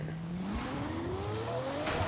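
A Lamborghini Diablo SV driving in a racing game, its engine note climbing steadily as it accelerates, close and continuous with a faint tire squeal.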